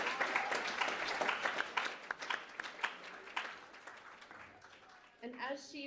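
Applause from the guests at an end-of-year recognition dinner, sharp claps thinning out over several seconds as a voice begins speaking near the end.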